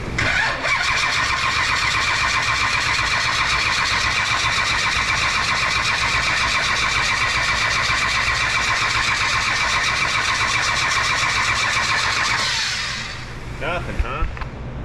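A 1965 Shelby Cobra with a 454 big block, its starter stuck on, cranks steadily and loudly for about twelve seconds without catching, the rapid churning stopping abruptly near the end, followed by faint rattles.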